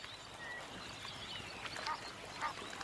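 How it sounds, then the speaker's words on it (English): A few honking, quacking calls from a pair of Egyptian geese at a moderate distance, foraging in a stream, over a soft outdoor background hiss. "A pair of Egyptian geese forages on aquatic plants growing in a stream."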